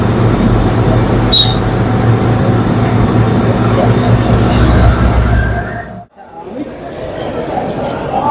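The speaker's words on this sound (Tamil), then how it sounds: "சண்டிகர் ரயில்வே ஸ்டேஷன்ல இருக்கோங்க." Loud, steady rumble of a train in busy Chandigarh railway station, with people chattering nearby; the noise suddenly cuts out near the end.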